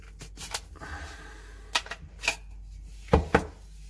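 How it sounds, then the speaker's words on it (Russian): A forged Yakut knife is drawn out in a few sharp clicks and scrapes: two quick taps, a pause, then louder close handling clacks. The scene is quiet and no one speaks. "Открываем ножичек."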